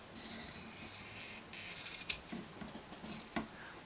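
Scissors trim quilt binding fabric close up, with quiet rustling and a few sharp snips, one near the middle and one near the end.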